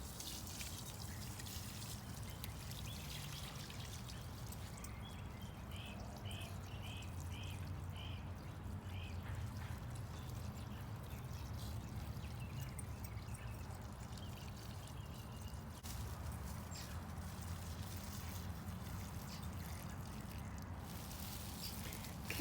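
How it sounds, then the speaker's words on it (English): Homemade mixture poured over an ant mound in a garden, a steady low splashing pour that runs on without pause and stays even in loudness throughout. "just pour that mixture we made all over the mound and let it"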